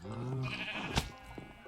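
Sheep in the Minecraft video game bleat in a drawn-out, wavering cry, followed by a short sharp click and another faint bleat.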